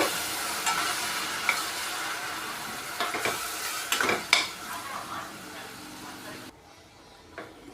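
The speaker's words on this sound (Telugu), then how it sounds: "ఇది బాగా వేగాలండి కొంతసేపు" A drumstick masala gravy fries and sizzles in a pan while a utensil stirs and scrapes, with irregular clinks against the metal, close up. The sizzle drops away near the end.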